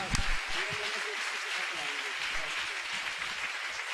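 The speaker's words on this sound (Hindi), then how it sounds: "तालियां बजती रहनी चाहिए, सौभाग्य की अनुमोदना है।" An audience claps at a Jain pichhika parivartan ceremony, a steady wash of applause that runs throughout while someone speaks over it.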